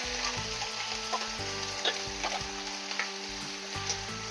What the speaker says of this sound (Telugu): ఇప్పుడు కరివేపాకు వేసుకుంటున్నాను